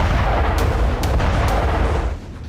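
A K9 Vajra self-propelled howitzer fires, a loud, sustained booming rumble with sharp cracks at the start, rolling on heavily before easing slightly near the end.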